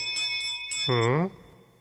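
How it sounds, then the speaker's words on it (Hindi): A bell in a children's cartoon falls to the floor, ringing out with a bright metallic clang, its tone ringing on briefly before fading, after a few faint higher chimes. "आप लोगों के चिल्लाने से ये घंटी नीचे गिर गई थी।"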